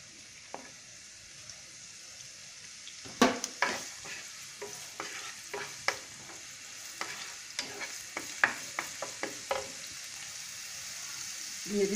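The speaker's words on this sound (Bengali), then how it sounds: "তেলটা গরম হতে হতে আমি দিয়ে দিচ্ছি পেঁয়াজ কুচি।" Chopped onion fries in hot oil for a fish dish, a quiet steady sizzle punctuated by a rapid run of spatula scrapes and taps against the pan, close-up with no speech.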